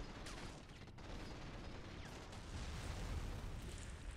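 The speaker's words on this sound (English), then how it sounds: "Look at that, mortars being put down." Mortar fire raining down during a night assault on a coastal fort in Men of War Assault Squad 2, a dense rumbling wash of distant blasts and bursts that swells slightly toward the end, with no voices.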